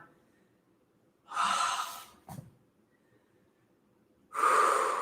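Deep breaths drawn in and let out during a yoga stretch, two long airy exhales with a short sharp intake between, close and fairly loud against a quiet room.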